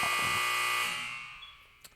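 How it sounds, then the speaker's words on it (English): A loud electronic buzzer blares in one sustained harsh burst, then fades away over about a second, with a faint click near the end. "what a buzzer, what a buzzer,"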